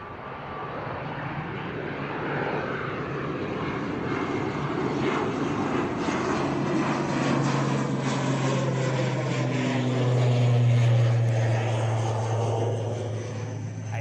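An ATR turboprop airliner takes off at Bristol Airport in a crosswind, its engines and propellers roaring steadily and loudly for the whole stretch, with a low drone building toward the end.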